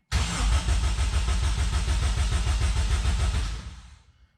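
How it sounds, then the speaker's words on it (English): An Acura RSX K20 engine swapped into a Toyota MR2 cranks with rapid rhythmic chugging, then catches and runs loudly before cutting off abruptly near the end. "I can hear the compression building too."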